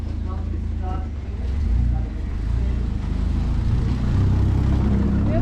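A car rolling past on a road in Peru's Sacred Valley, a low rumbling engine and tyre noise swelling and holding, close and fairly loud, with people talking nearby.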